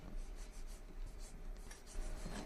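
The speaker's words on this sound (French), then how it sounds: "On gratte légèrement la gousse de vanille pour que toutes les graines se libèrent dans le lait." A knife lightly scrapes a split vanilla pod to release its seeds for custard, soft repeated rasping strokes, faint and close.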